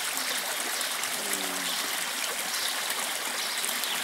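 A creek running through the middle of a village in Mescitli, Sarıkamış, Kars, giving a steady, broadband rush of flowing water that stays even throughout, with a faint low tonal hum briefly under it.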